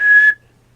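A person's voice imitates a kid's whistle: one loud, steady, high whistle tone held for about a third of a second, then a quick fade into near silence.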